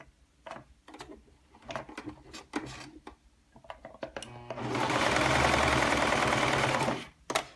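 A serger sewing machine whirs loudly and steadily for a few seconds after a stretch of scattered clicks and handling noises, then stops abruptly.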